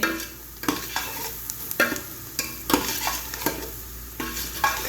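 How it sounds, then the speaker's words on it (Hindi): Onions frying with salt, red chilli, turmeric and coriander, stirred in a pot in regular scraping strokes over a low sizzle, close and fairly loud with no voices. "बस अच्छे तरीके से इसको फ्राई करेंगे"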